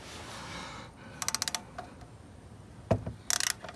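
An extended wrench works a bolt loose under a 2021-2026 Toyota Sienna during an oil change, giving two quick bursts of ratcheting clicks and a dull knock between them, close and moderately loud with no talk.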